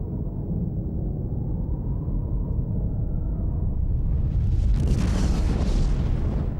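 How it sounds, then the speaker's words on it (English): A nuclear bomb explosion sound effect: a deep, loud, rumbling roar that swells and then bursts into a broad, crackling blast that rolls on without stopping. "When a nuclear bomb explodes"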